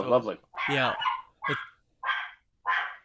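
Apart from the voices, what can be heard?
dog barking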